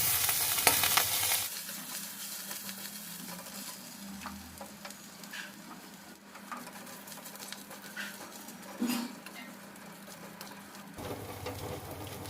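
Whole fenugreek, fennel, nigella and cumin seeds with asafoetida and ginger frying in oil for a thin vegetable curry, a soft steady sizzle close by with scattered light clicks and stirring taps, no speech.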